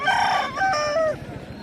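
An Aseel rooster crows at a busy chicken market, one loud, close cock-a-doodle-doo with a rising then falling call that breaks off, over a low background murmur.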